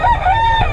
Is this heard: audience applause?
no